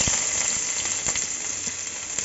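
Onions go into hot oil for a Bengali curry and fry with a bright, steady sizzle that holds loud and even, marked by a few sharp crackles and spits.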